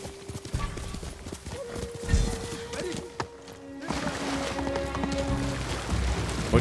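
A horse's hooves clop in a fast, steady galloping rhythm in the open-world samurai game Ghost of Tsushima, close and clear over a faint background hum that grows busier partway through.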